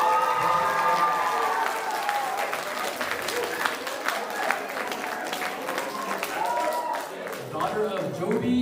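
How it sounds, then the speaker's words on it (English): Audience clapping and cheering for a graduating student at a class graduation, a steady spread of many hands with scattered sharp claps and occasional voices mixed through, lasting throughout. "Please give a big round of applause for Angelina Joby."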